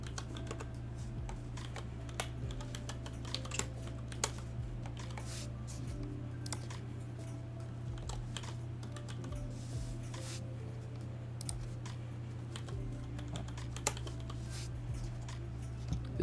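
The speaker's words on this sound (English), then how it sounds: "You'd have to deal with me typing vertically on a keyboard." Steady typing on a computer keyboard, with dense, irregular key clicks running throughout over a low constant hum, close and moderately loud, with no voices.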